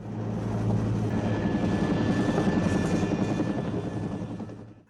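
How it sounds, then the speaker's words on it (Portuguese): A helicopter flies close by with a steady, loud rotor chop and engine drone that holds strong before fading at the end. "a banda correu para seu helicóptero e escapou do local"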